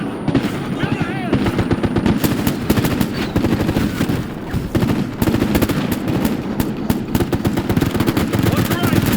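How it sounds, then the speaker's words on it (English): Rapid machine gun fire rattles in dense, sustained bursts in the military shooter video game Ghost Recon Future Soldier, loud and close, with shouted squad voices mixed under the gunfire. "Ah, machine gun!"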